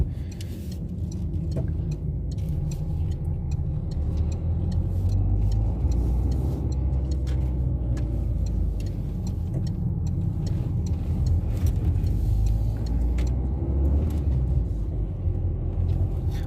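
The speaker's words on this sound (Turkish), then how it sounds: "Motor sesi de öyle acayip çok bir içeri gelmiyor" Inside a light 1100 kg Peugeot 301 sedan on the move, a low steady engine and road rumble hums continuously, muted and even, with faint ticking and no talk.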